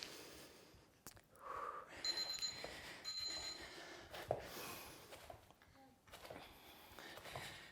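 An exercise timer buzzer sounds during a leg-hold workout, two short steady electronic tones about a second apart over a faint background hiss.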